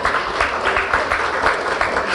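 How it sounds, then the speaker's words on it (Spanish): A stand-up comedy audience breaks into loud, close applause, a brisk, dense clapping that stays steady over its short length with no talk on top. "un aplauso, por favor, un aplauso para él"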